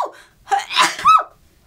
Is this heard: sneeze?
yes